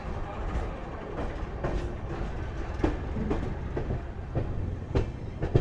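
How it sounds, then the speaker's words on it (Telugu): A parallel train running alongside a moving Intercity Express near Salem Junction, a continuous rolling rumble with irregular rail clacks and knocks, fairly close and steady, heard from inside the carriage. "మన పక్కనదా ట్రైన్ వెళ్తుంది, ప్యారలల్ ట్రైన్."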